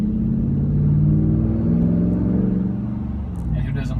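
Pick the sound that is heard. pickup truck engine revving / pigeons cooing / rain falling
pickup truck engine revving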